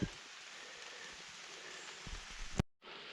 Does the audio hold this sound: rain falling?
yes